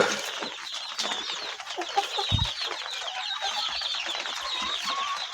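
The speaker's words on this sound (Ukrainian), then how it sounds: "Там вон курочка сидить." Chickens cluck and murmur softly nearby in the early morning, with a brief flutter of wings partway through.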